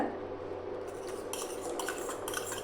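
Homemade soap mixture, melted, is stirred in a container, with soft scraping and light clinks of a utensil against the vessel's sides going on steadily and close by.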